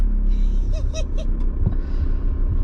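An older campervan with a manual gearbox drives along, its engine and road rumble loud and close throughout, with a few faint high squeaks and clicks from inside the cab.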